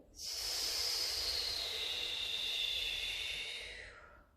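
A single long, breathy exhale during a Pilates exercise, close and hissing, swelling quickly, held for about four seconds, then fading out.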